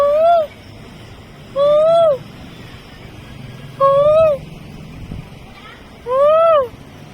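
Peacock giving four loud, clear calls, each a rising, wailing cry with bright harmonics, spaced about two seconds apart against quiet outdoor background.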